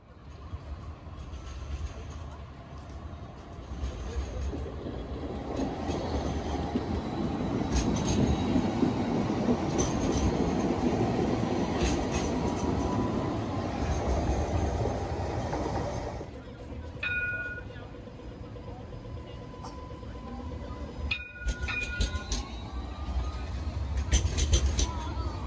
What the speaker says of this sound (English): There are 60 Alstom Citadis trams in total,